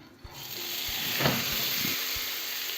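Anchovies laid into a hot oiled frying pan set off a rising, steady hiss of sizzling, with soft thumps as pieces land, close and moderate.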